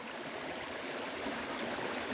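A mountain river stream flows in a steady, close, full rush of water with no other sounds over it.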